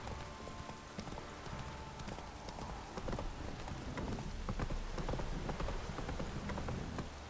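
Roach, the horse in the video game The Witcher 3, gallops with rapid, rhythmic hoofbeats, close and prominent over steady ambient game noise, with a brief whinny possible among the clip-clop.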